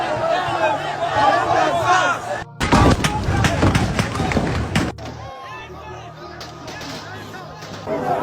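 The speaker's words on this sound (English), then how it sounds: "They're shooting us!" Gunfire cracks out at a crowd during a street protest, with sharp bursts and thuds mixed into loud shouting and screaming voices, the din rising and dropping in chaotic waves.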